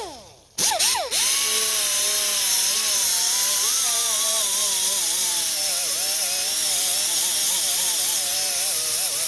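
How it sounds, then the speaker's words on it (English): An angle grinder fitted with an abrasive wheel runs loud and close over a blade edge, a steady high-pitched whine that wavers as pressure shifts along the profile after a brief spin-up, with no talking. "we'll take an angle grinder with an abrasive wheel on it, and we'll go over this profile again"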